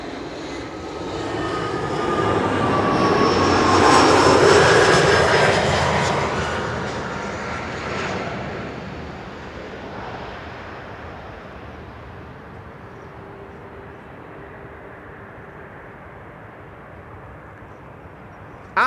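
An aircraft, a KLM arrival on Schiphol's runway 06, swells into a loud broadband engine roar that peaks and then fades into a steady, distant rumble, with no talk over it.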